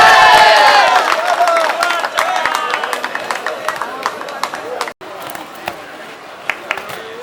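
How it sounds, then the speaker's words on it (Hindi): Spectators at a boys and girls boxing trial in Liyari cheer and clap loudly for two boxers, and the roar settles into scattered applause under an announcer's voice. "इन दोनों बॉक्सर्स के लिए जोरदार तालियां"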